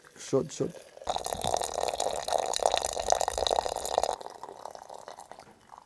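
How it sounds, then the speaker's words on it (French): Hot water poured from a kettle into a small container over herbal tea plants, a steady liquid pour running for about three seconds after a brief voice, then stopping. "pour verser là-dessus de l'eau que la bouillie. De l'eau chaude."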